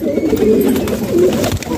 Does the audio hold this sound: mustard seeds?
no